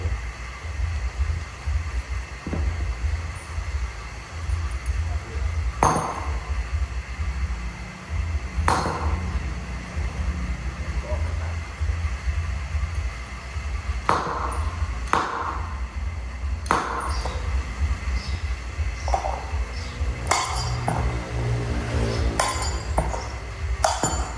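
Irregular sharp metallic hammer strikes ring out as a metal part is knocked out of a tractor, over a steady low mechanical hum, with a faster flurry of clinking blows near the end.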